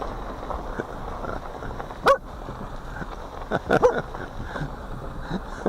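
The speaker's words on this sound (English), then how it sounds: "My dog's barking at it." A dog barks at a hovering Hubsan H501S follow-me drone outdoors, giving a sharp bark and then a short cluster of two or three barks over a steady hum of wind and rotor noise.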